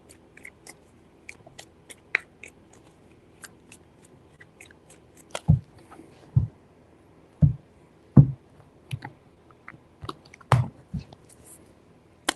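Tarot cards shuffled by hand in three rounds, giving sparse soft ticks at first, then a run of sharp, close slaps and riffles spaced about a second apart, with no talking.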